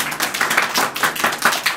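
A church congregation applauds loudly and steadily, a dense wash of many hands clapping together close by without a pause.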